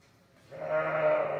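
A ewe close to lambing bleats once on a farm, a sustained nasal call that swells from quiet to fairly loud and holds steady, heard close and alone.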